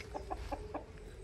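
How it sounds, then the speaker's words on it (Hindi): A rooster clucks in a village setting, four short clucks in a steady rhythm, close by and fairly quiet over low background rumble. "मुर्गा दिखा रही अंकल"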